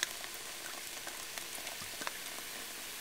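Blush champagne poured into a pan for poaching pears, fizzing with a dense, steady crackle of tiny bubbles at low volume and no voices.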